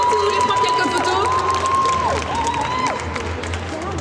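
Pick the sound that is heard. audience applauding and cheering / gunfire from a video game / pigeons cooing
audience applauding and cheering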